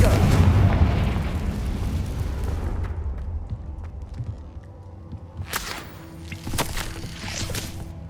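A Confringo spell in Hogwarts Legacy bursts with a heavy booming explosion that rolls and fades, followed by scattered sharp crackling impacts and debris.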